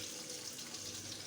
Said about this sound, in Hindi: और साथ में हम डालेंगे पानी